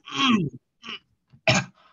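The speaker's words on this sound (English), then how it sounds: "poor thing, you're coughing." A few short, harsh coughs and throaty bursts close to the listener, separated by brief silences.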